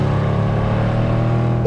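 Engine of a tuned 720-horsepower, 1100 Nm V8 Audi S8 D4 limousine in dynamic mode, a loud, deep, steady rumble heard close up from inside the car with no talk over it.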